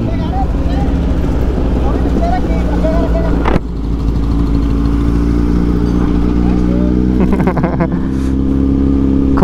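A Kawasaki Z900 with a Racefit exhaust idles with a deep, steady burble up close, then blips briefly mid-way and rumbles on again, while people talk over it.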